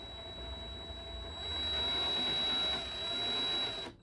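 An ArduMower robotic lawn mower, guided by GPS RTK, drives toward its first mowing waypoint with a steady whirring motor hum and a thin constant whine, swelling slightly louder midway before cutting off abruptly at the end.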